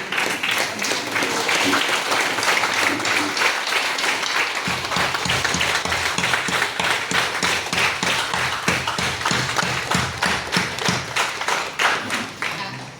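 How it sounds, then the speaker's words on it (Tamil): Audience applauding students at a Tamil award and felicitation event: dense clapping that turns into a loud, rhythmic unison clap, steady beats filling the room. "நம்ம கண்டிப்பா எழுந்து நின்று அவங்களுக்கு ஒரு பெரிய கைத்தட்டல் கொடுக்கணும்"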